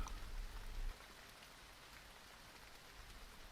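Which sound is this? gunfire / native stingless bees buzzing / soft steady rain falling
soft steady rain falling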